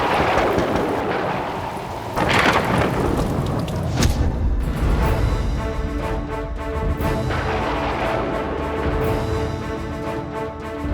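A heavy thunderstorm outside, with dense, steady rain and gusting wind filling the whole stretch and loud rolls of thunder rumbling through at intervals, no voices.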